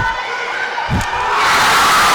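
A college volleyball crowd cheers in the gym during an Averett versus Meredith match, a dense mass of voices that swells and grows louder toward the end.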